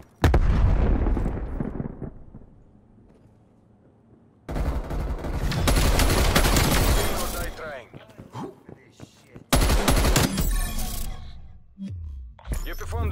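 Explosions and heavy gunfire from Black Ops Cold War, a frag grenade blast among them, come in loud bursts separated by short quieter gaps, with voices speaking over the combat.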